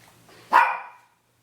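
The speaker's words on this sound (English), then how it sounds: "Please forgive my dogs." A single dog barks once, sharp and fairly close, over a quiet indoor background with no talking.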